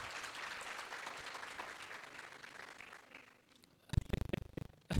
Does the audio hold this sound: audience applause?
yes